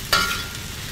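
Cellophane noodles stir-fry in a hot pan, opening with a sharp burst of sizzle as they hit the oil, then settling into a softer, steady frying hiss for under a second.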